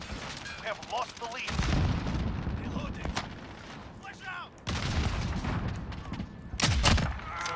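Sniper rifle gunfire in a video game, played on a dark map. Sharp booming shots with short echoing tails crack out in a few separate bursts, with a person talking quietly in between.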